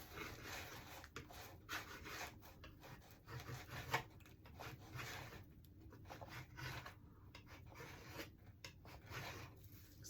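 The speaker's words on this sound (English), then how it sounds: "we're just going to scrape. We're just going to scrape each one." A scraper drags across painted wood slats in repeated rough, rasping strokes, close but fairly quiet, with a steady rhythm of scrapes for a chippy distressed finish.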